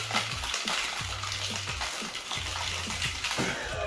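A hurricane cocktail is shaken in a shaker, producing a continuous loud, sloshing, washing rush of liquid and ice with a rhythmic churn, close by and without speech.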